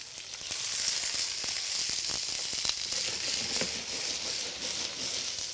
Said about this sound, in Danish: Svinger dem bare stille og roligt på den varme pande.